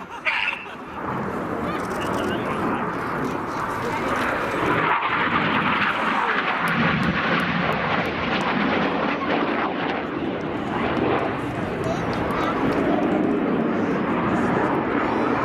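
A Red Arrows display jet roars loudly and continuously overhead at an airshow, a broad rushing engine sound that swells slightly as it passes.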